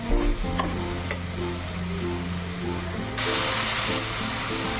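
A potato and pointed gourd curry is stir-fried in a pan, a low steady frying hiss with a few stirring knocks, swelling into a louder, hissier sizzle partway through.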